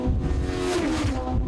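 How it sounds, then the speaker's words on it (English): Yamaha-engined race cars thunder past at Knockhill during the 2012 Scottish Legends meeting, a close, continuous engine drone with shifting pitch as they pass, with no talk. "I just paused to hear those magnificent Yamaha engines going past."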